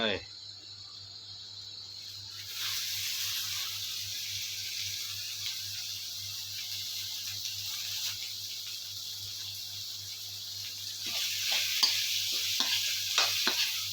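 Garlic and other food sizzle steadily in a hot pan on a home stove, with a bright frying hiss throughout and, toward the end, a run of quick scraping stirs close by.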